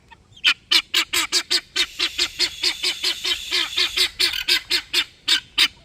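Backyard chickens squawk loudly in a rapid, repeated series of harsh calls, about twenty in a row, close by and dominating everything else.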